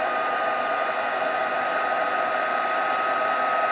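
A heat tool for embossing blows with a steady, loud whooshing roar, holding constant throughout with no voices.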